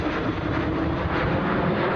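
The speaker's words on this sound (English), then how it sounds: "This aircraft is from the 34th Bomb Squadron at Ellsworth Air Force Base in South Dakota, and it's flying by here with its wings swept fully forward" A B-1 bomber of the 34th Bomb Squadron, four General Electric turbofans, passes with its wings swept fully forward at an airshow, giving a steady, loud broadband jet roar that holds level without fading.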